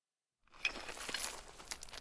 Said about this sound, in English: In a moment of silence, you can hear the sound of crystals shattering behind you.